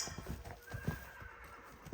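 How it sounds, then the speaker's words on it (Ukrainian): Hooves clop steadily close by while a mare whinnies, with a higher-pitched call rising partway through. "Кобила заржала."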